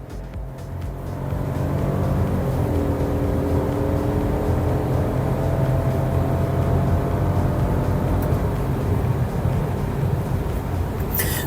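A 2025 Peugeot 2008 accelerating up a gentle hill, with a steady, loud engine drone that rises in pitch through the gears and is heard from inside the cabin, without talking.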